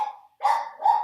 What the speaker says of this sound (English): I have dogs too. Dogs that bark a lot.